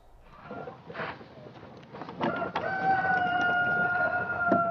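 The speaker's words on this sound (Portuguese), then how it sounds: "O Canto do Galo anuncia o novo dia" A rooster on a farm crows loudly with a long, drawn-out cry, preceded by clucking and scratchy farmyard noise.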